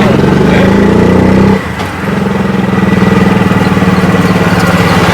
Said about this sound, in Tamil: நல்லா டிராஃபிக் நிறையா இருந்துடும் வண்டியே மூவ் ஆகாதுங்களா ஆ வண்டியே மூவ் ஆக கஷ்டம் தான்